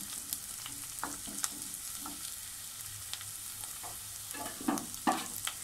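Ginger sautés in a clay pot, a soft, even sizzle with scattered clicks and scrapes as it is stirred.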